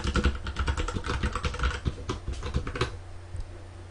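Steady, fast typing on a computer keyboard, close up, with dense clattering keystrokes that stop abruptly near the end.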